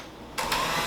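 An electric mixer starts up partway through and beats 500 grams of butter in a large bowl for a wedding cake, a steady close whir that rises in pitch and holds.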